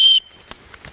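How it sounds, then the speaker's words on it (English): The small whistle built into the chest strap of an Osprey Atmos AG 65 backpack gives one short, shrill, piercing blast up close, then a few faint handling clicks. "So there's a whistle built into the backpack."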